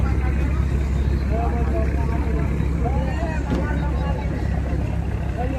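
A motor launch cruises on the Ganga near Bally Bridge, its engine a steady low rumble with water wash underneath, constant and close, while a person talks over it.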